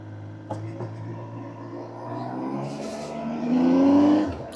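A brand-new Triumph Trident 800 motorcycle pulls away on a test ride, its engine idling and then rising in pitch as it accelerates, moderately loud and close with a brief click near the start.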